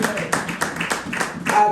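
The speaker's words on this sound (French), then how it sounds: "On va applaudir pour la parole de Dieu, bien-aimé." A church congregation claps together in a steady, rhythmic beat, loud and close, with voices mixed in throughout the short burst.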